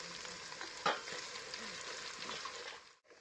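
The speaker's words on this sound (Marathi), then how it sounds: "तर आता लसूण आणि ते आपलं मस्त तळून जावत आलं" Garlic and coconut fry in a pan with a close, steady sizzle and crackle, broken by a stirring scrape, then stopping abruptly near the end; no one speaks.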